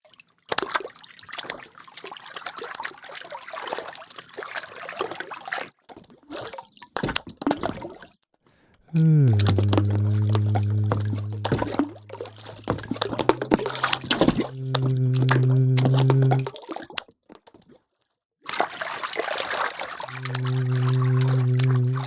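Water drops processed and performed live through Reformer Pro form dense, rapid dripping textures, broken by sustained pitched tones as a long vocal-driven sweep makes the drops repeat, with short pauses between phrases.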